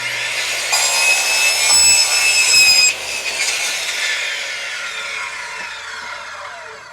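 A saw cuts through a 12-foot wall panel in a garage build, a loud, harsh rasp that runs steadily for about three seconds and then continues at a somewhat lower level until the end.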